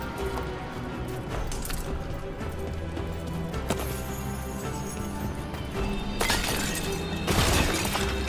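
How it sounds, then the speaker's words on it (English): A magical manifestation shatters in Dragon Age The Veilguard, with two bright, crackling bursts near the end rising over a dense, busy ambience of rumbling and clattering game sound. "If provoked, these manifestations will shatter."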